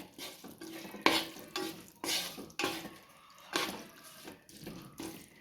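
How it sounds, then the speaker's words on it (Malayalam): Cooked cauliflower stirred into hot oil for a vegetarian pickle, heard as close, rhythmic bursts of wet sizzling and scraping, about five strokes, with quieter gaps between them and no talk. "തീ കെടുത്തി കളഞ്ഞതിന് ശേഷം നമുക്ക് കോളിഫ്ലവർ ചേർക്കാം"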